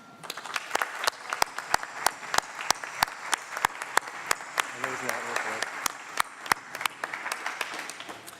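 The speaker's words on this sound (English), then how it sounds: "Will you please stand up and get some applause?" Audience applause for event team members at a Museum of Flight gathering: scattered, distinct loud claps repeating at a brisk pace over a bed of general clapping, with people talking underneath partway through.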